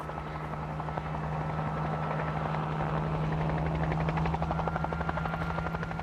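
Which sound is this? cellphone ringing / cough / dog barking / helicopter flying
helicopter flying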